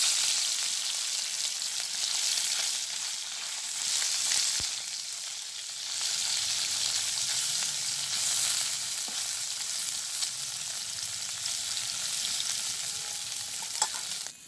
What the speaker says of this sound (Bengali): মাছটা আজকে একটু হালকা ভাজি করে নেব